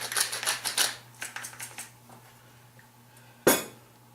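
Black pepper is shaken onto an omelet cooking in a pan, heard as a quick burst of rattling, clicking shakes, then a few lighter taps, and a single sharp clack near the end.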